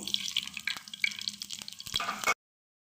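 Mustard seeds and cumin dropped into hot oil for a gongura dried-prawn curry, brisk crackling sizzle with sharp popping ticks for about two seconds, close and fairly quiet, then sudden silence.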